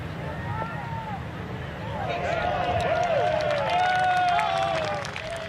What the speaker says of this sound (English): Polite applause, and he doesn't like it